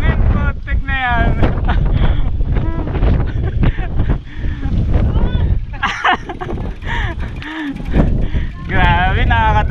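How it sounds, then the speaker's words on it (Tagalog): Strong wind buffets the microphone with heavy, continuous roaring gusts during a mountain bike ride on a trail, while a rider talks and shouts over it. "Ang lakas ng hangin!"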